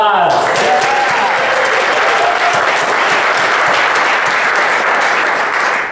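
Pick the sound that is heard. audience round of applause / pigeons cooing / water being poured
audience round of applause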